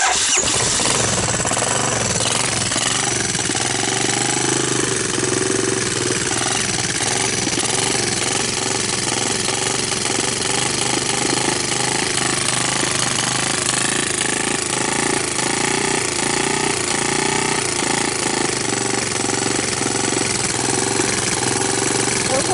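A Honda TRX200SX ATV engine, bought for parts, starts and keeps running, a loud, steady, rough chatter with a buzzing exhaust note that holds close throughout.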